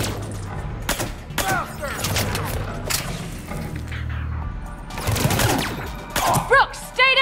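Suppressed pistol shots in Mass Effect 3 fire as scattered muffled thuds among game battle noise, with other impacts and bursts over several seconds. Voices can be heard in the background.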